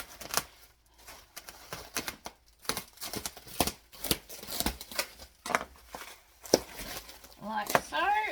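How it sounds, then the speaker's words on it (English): A blade cuts into a cardboard package box during an unboxing, giving a series of short scraping and slicing bursts with pauses between, close and moderately quiet. "So I'm just going to cut into this."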